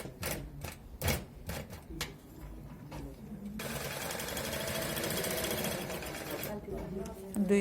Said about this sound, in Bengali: সব চেনের রাউন্ডটা লাগানোর পরে দুই পাশটা সেলাই করা হচ্ছে